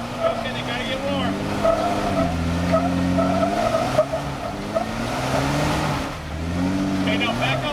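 Off-road Jeep Rubicon climbing a waterfall, its engine running hard as the tires spin and squeal against wet rock, a steady loud roar with surging revs, while a nearby spotter talks over it throughout.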